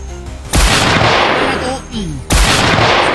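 Two loud gunshots, about two seconds apart, each cracking sharply and then rolling off into an echoing tail.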